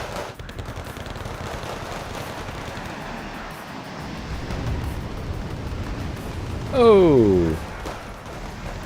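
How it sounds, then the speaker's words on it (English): Flak panzer autocannon fire from a Wargame Red Dragon battle, a steady rumbling barrage of bursts that runs throughout, with a short exclaimed voice near the end. "My Motostralki are getting torn apart by all those flak panzers."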